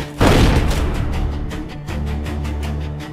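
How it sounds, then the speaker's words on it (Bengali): A heavy gunshot rings out in a Bengali crime thriller audio drama as a woman fires again during a chase, one loud booming blast with a rumbling decaying tail, followed by a lower sustained rumble as a depot wall crumbles. "মহিলা আবার গুলি চালালো এবং যেটা ডিপোর দেওয়ালে লেগে দেওয়ালটা ঠিক রণজয়ের সামনে ভেঙে পড়ল"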